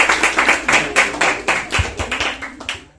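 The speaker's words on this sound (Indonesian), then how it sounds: "Bisa tepuk tangan untuk para alumni ini." An audience at an Islamic boarding school gathering gives the alumni a round of applause, with loud, close, rhythmic clapping that pulses in unison before tapering off.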